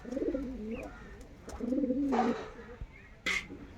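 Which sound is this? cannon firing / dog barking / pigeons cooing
pigeons cooing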